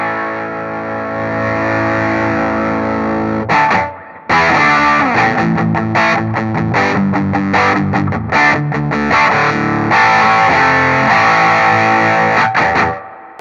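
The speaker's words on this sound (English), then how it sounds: "That's a really long reverb on the amp. So it is activating an overdrive." Overdriven electric guitar through an amp with a very long reverb tail, loud distorted chords ringing on, a brief drop near four seconds, then dense sustained playing to the end with no talk.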